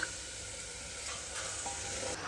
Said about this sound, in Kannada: ಒಂದು ಎರಡು ನಿಮಿಷ ಚೆನ್ನಾಗಿ ಫ್ರೈ ಮಾಡ್ಕೊಳ್ಳಿ ಮಸಾಲೆ ಎಲ್ಲ ಚೆನ್ನಾಗಿ ಹತ್ಕೊಳ್ಳುತ್ತೆ